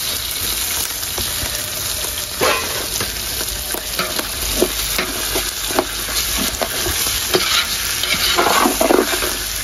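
Home-grown rice fries in oil with whole green chillies, a close, steady sizzle under repeated scraping strokes of a spoon stirring the pan.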